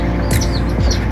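A chick chirps outdoors near its mother hen, giving a couple of short bright cheeps over a steady background hum.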